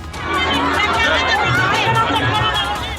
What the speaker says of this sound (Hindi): फिर धार्मिक सभा में मची भगदड़